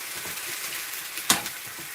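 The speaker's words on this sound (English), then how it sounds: "So just a real quick sear here." Food given a quick sear in a hot pan while cooking red Thai curry, a steady hiss of sizzling with a brief sharp crackle partway through, close and alone.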